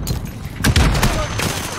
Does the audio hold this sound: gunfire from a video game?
yes